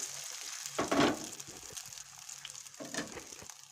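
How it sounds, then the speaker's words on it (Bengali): An egg roll frying in white oil on a griddle, giving a soft, close sizzle with two bursts of louder frying and light scraping, without voices. "এখন এগ রোলটা গোল গোল করে ভেজে নিচ্ছি"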